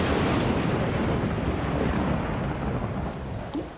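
Thunder rumbles during a thunderstorm, a loud, deep, sustained roll that slowly fades toward the end, with no voices.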